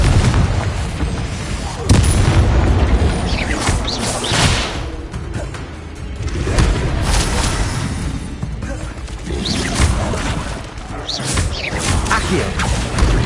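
Confringo spell blasts in Hogwarts Legacy, a series of loud booming explosions and crashing impacts with crackling debris and mechanical clatter, spaced across the stretch with brief lulls between.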